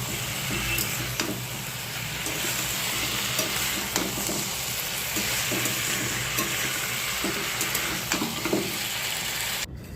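Potatoes for a jackfruit curry fry in a pan as a spoon stirs them, producing a continuous close sizzle with regular scraping and clinking strokes, and no voices.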